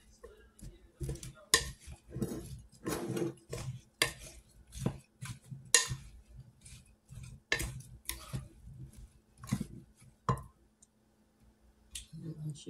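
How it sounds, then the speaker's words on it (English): Fresh pineapple, strawberry and tangerine fruit salad is stirred in a bowl, with soft wet squelches and repeated light clicks of a utensil against the dish in an uneven rhythm. Someone speaks in between. "Just stir it up"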